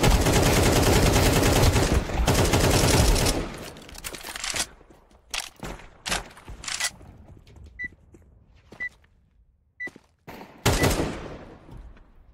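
Machine-gun fire in Counter-Strike 2, with a long loud sustained burst followed by scattered shorter shots and quieter gaps, plus a few faint beeps.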